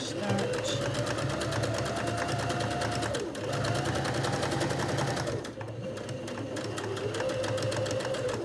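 A sewing machine runs steadily while stitching the top hem of a reversible tote bag, with a continuous whirring needle rhythm and brief pauses. A person talks over it.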